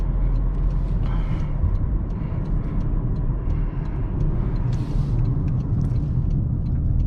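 A 2023 Toyota Corolla driving onto a highway, heard from inside as a steady, loud low engine and road rumble with faint ticks and rattles over it and no talk.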